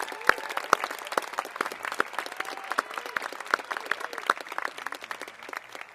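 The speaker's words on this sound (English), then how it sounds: "Please, one more round of applause for Kelly Green." Applause at a college commencement ceremony: a large crowd claps steadily and densely throughout, with sharp individual claps standing out, no voices over it.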